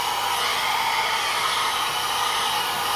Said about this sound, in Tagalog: Dry na lang tayo ng hair.